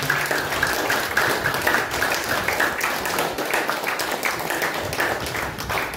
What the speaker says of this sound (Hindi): अच्छा लगा तो ताली बजाना